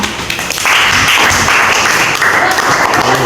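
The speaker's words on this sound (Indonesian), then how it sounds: "Tepuk tangan" Classroom applause from pupils, loud close clapping that swells after a brief pause and continues as a busy patter, with a voice speaking over it near the end.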